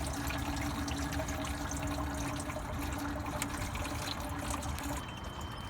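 Coolant drains out of a Lexus LS400-family radiator in a steady, loud pouring gush, continuous throughout and easing slightly toward the end, with no talking.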